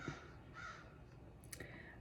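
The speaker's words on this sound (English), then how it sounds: "Can you hear the crows outside?" Crows caw outdoors: a few hoarse, drawn-out calls from more than one bird, faint and somewhat distant against quiet background hiss, no voices.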